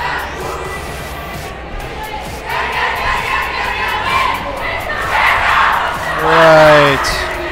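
Packed high school gym crowd at a girls' basketball game roaring and shouting continuously, loud and raucous, with a whistle-like tonal blast rising near the end.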